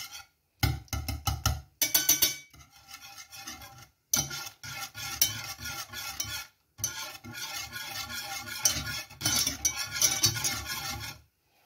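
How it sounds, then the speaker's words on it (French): A whisk beats and stirs a béchamel roux of flour in a pan, coming in bursts of rapid scraping, rattling strokes separated by short pauses, close and fairly loud with no talk over it. "Avec le fouet, on l'aide un peu."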